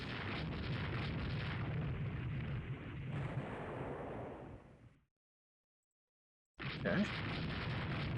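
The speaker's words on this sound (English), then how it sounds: "TR Merchant, torpedo explodes in wake." Heavy booming torpedo explosions from the naval strategy game Rule the Waves 3, a loud sustained rumble that cuts to silence and then bursts back in, with a brief spoken word.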